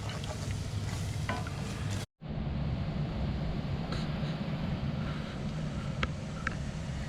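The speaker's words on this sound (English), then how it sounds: "now I'm whipping up some eggs, just using the same pan and the grease from the sausages a little bit" Eggs stirred in a pan with leftover sausage grease, a steady close sizzle with soft scraping and clinks running throughout, briefly cut off once.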